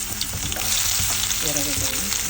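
Ginger sizzles in hot oil in a pan for egg fried rice, a steady loud crackle with brief stirring scrapes and clatter.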